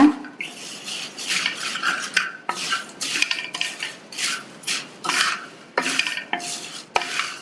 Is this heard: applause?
no